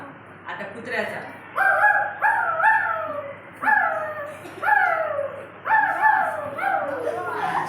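A voice imitates a dog barking, giving a string of about six loud, yelping barks in short bursts, as in a classroom game of animal sounds.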